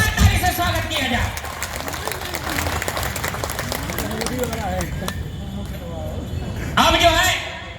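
Crowd applause greeting a minister at a public gathering, steady clapping throughout that swells again near the end, with a voice speaking over it.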